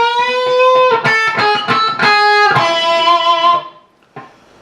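Distorted electric guitar plays the opening measure of a guitar solo, a quick run of bent and picked notes with rich overdriven harmonics, sustained near and loud before cutting off, then a short fading chord.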